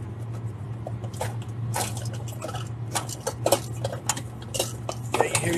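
A knife and other cutlery clatter and clink in a series of irregular sharp knocks and scrapes, close and moderately loud, over a steady low hum.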